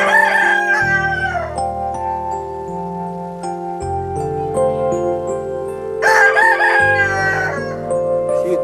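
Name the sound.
rooster crowing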